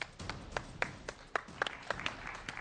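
A small indoor group claps briefly, producing faint, scattered hand claps at an uneven rhythm over a quiet background.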